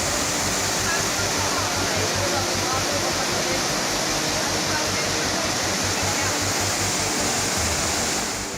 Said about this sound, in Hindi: इस पानी का बहाव देखिए